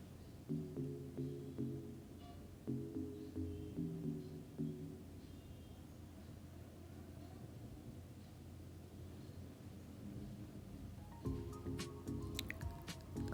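Paneer cubes are added to a simmering gravy and stirred in, making soft, wet squelching and dripping sounds at low volume over a steady tonal background.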